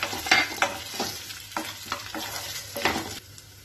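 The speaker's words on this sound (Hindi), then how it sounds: "हम ये जो मूंगफली है इसको डाल लेंगे।" Potatoes and peanuts fry with curry leaves in a pan, a soft steady sizzle broken by several scraping stirs, close and quiet with no talk.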